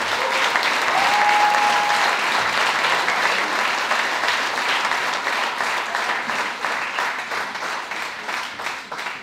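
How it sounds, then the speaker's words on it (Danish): An audience at a 2020 award ceremony gives a sustained round of applause, dense and steady clapping that gradually thins out toward the end. "Skal vi lige give dem en klapsalve mere."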